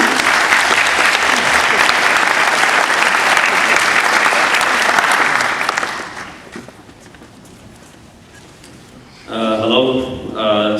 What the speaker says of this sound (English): So please give a round of applause to Mr.